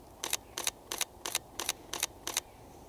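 A camera shutter fires seven times on low-speed continuous in a frosty, foggy woodland, each crisp mechanical snap evenly spaced about a third of a second apart, close and alone.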